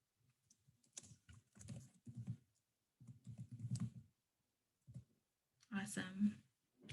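A computer keyboard clacks in short bursts of typing as a link is entered into a chat, close and fairly distinct with quiet pauses between runs.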